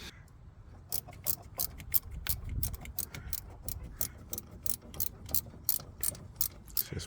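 Ratchet wrench loosening a bolt on a Renault Clio starter motor, a close, steady run of sharp clicking pawl strokes in bursts across the whole stretch, with no talk.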